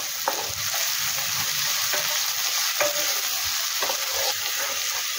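Sliced onions with spices fry in a pan for a side dish, giving a steady loud sizzle with occasional stirring scrapes and no talking.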